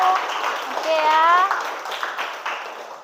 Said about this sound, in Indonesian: Tepuk tangan dulu untuk Nazifa, Ratu.